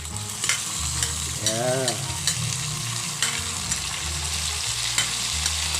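Kare-kare with beef skin and ginger is stirred in a pot, giving a continuous sizzle with periodic scraping strokes, while a low hum runs underneath and a voice is briefly heard.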